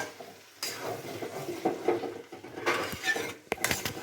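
Spoon stirring a finished prawn and cabbage curry with ghee and garam masala in a pan, with clinks and scrapes against the metal and a faint sizzle, close and moderately loud, no talking.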